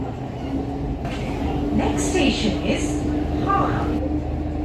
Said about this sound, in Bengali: হুগলি বা গঙ্গা নদীর নিচ দিয়ে মেট্রো রেলে চড়ে ওপারে হাওড়া জেলায় প্রবেশ করব